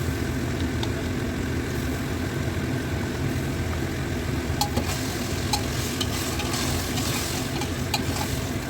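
A ginger, garlic and onion paste with tomato paste sautéing in a pan, a continuous close sizzle with occasional stirring scrapes and no talk.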